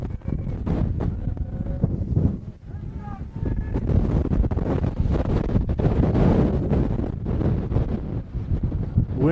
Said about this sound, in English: Wind just about blew me off the top here, Grant.